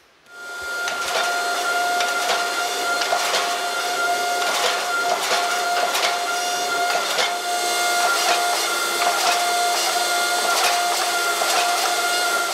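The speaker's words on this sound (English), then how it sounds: "now the idea is that when we press this flat, the core is going to shift side to side" A press squeezes a hot, forge-welded steel billet for a serpent-core Viking sword, its sustained mechanical hum and whine running steadily after a sudden start, with faint crackles and taps over the drone.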